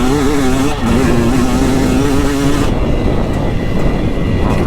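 A KTM 300 two-stroke dirt bike engine roars loud and close on a woods loop, rising in pitch as the throttle rolls on, then settling into a harsh, rough drone.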